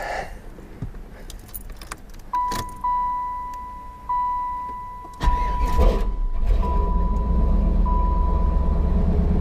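Keys jingle and a dashboard chime beeps, then a fourth-generation Chevrolet Camaro Z28 SS engine cranks and starts after an oil change, settling into a steady, close, low idle rumble.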